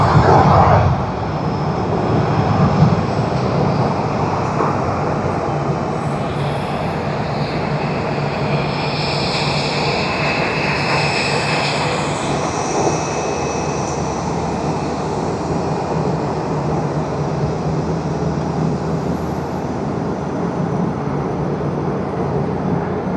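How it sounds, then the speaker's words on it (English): A Hawaiian Air airliner taxis at Tokyo Haneda Airport, giving off a steady jet engine roar and whine that holds for over twenty seconds outdoors. Faint talk sits underneath. "In the background, you also see Hawaiian Air taxiing."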